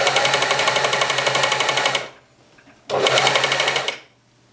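An overlock machine stitches together a fabric headphone case in two loud, steady runs, a two-second burst, a short pause, then another burst of dense mechanical whirring close to the microphone.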